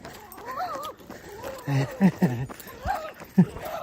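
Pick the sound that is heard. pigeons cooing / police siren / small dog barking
small dog barking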